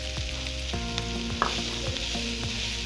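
Chicken stirred and mixed in a hot frying pan: continuous sizzling with rhythmic scraping strokes of a spoon across the pan, backed by soft steady music.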